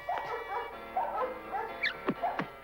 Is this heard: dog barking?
yes